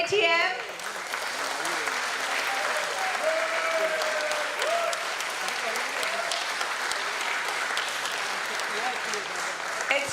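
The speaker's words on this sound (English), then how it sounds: "Let us put our hands together one loud time to cheer for Paytm." A crowd at the Paytm IPO listing ceremony gives sustained loud applause and cheering, dense clapping throughout with voices mixed in.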